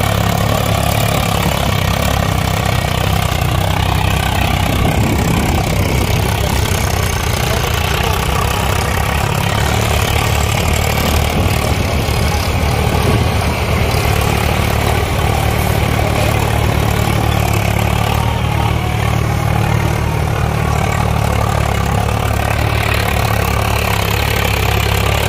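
Swaraj 744 XT and Mahindra tractor diesel engines running, a steady loud low rumble that continues without a break for about 25 seconds, close by, with no talk.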